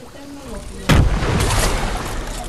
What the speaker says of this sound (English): Who freaking threw bombs?